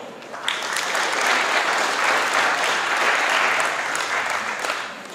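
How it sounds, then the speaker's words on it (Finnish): Crowd applause at a rally prize-giving in Heinola, steady clapping from many people that swells up quickly at the start and carries on, dense and even, to the end. "Aplodit!"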